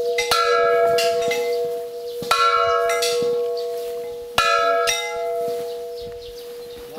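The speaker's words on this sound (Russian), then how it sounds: "Колокол надо ударить справа." A church bell is struck by hand during morning prayer, ringing out in four loud clangs with long humming decay between strikes, and no talk.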